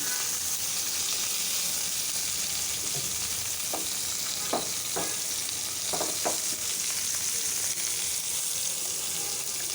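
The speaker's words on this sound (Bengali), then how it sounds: "মাছগুলো উঠানো যাচ্ছে না, একটু ভালো করে ভাজা হলে উঠবে" Koi fish fry in a worn frying pan with a steady, loud, close sizzle throughout. A few short scrapes or taps come from a utensil in the middle, and no one talks.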